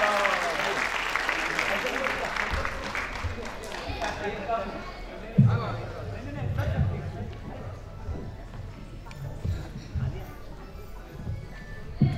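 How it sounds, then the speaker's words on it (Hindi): Audience applause at a Hindi poetry recital (kavi sammelan) swells from loud clapping and then thins out, with a few sharp claps and a host's voice talking over it. "एक बार जोरदार तालियां अशोक सुंदरानी के लिए"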